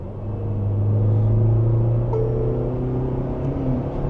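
A Tata Harrier petrol SUV with a 1.5-litre engine accelerates from 60 to 120 in fourth gear, its steady engine drone and rising note running loud and continuous under heavy road rumble with no talking.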